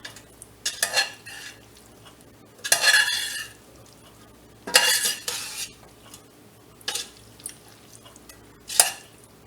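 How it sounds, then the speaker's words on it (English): A spoon scrapes and clinks against a pot while stirring melting butter into lemon noodles, several short separate bursts spaced by quiet pauses, close and with no talking. "Stir it up gently."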